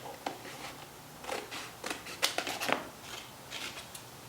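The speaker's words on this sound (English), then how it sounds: "you can go ahead and cut part of it out with scissors" Scissors snip through dried, painted gasket material in a garage, giving several quiet, crisp cuts in irregular bursts that cluster in the middle of the span.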